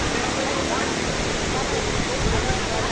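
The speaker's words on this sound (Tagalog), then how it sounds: "Nadeta ron diri sa Tumalog Falls" Tumalog Falls in Oslob, Cebu, a steady broadband roar of falling water that holds at an even level throughout, close and dense with no breaks.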